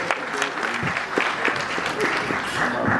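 Applause from an audience at an NPP Canada anniversary event in Toronto, a dense, steady clatter of many hands clapping throughout, with faint crowd murmur underneath.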